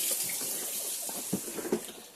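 Camper van tap running to purge air from the water system, a close, steady hiss of flowing water with a few soft splutters and gurgles near the end.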